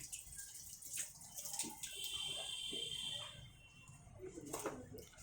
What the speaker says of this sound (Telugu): రెయిన్ వాటర్ అలా పడుతుంది మనకు